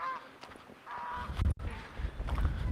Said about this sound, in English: These geese are literally walking in the middle of the trail, right?